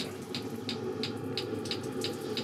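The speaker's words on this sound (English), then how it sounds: "The shower is on behind me." Shower water runs in a steady hiss, heated by a Webasto diesel heater, with a soft regular ticking repeating about three times a second underneath, fairly close and with no talk.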